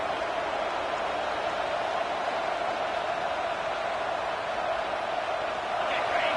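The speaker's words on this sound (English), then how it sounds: "this home crowd is fired up and ready to make a difference today" A home stadium crowd at a college football game in the NCAA 26 video game roars as a steady, dense wash of noise that stays loud and unbroken throughout, with no distinct voices standing out.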